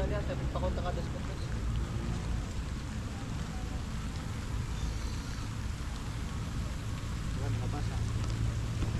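Steady rain pours with a dense, even hiss that continues throughout, loud and close, with no pauses.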